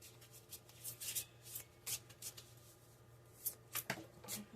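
Tarot cards are cut and shuffled by hand in a series of quick crisp riffles and slaps that come in uneven bursts, close and fairly soft, with a faint low hum underneath.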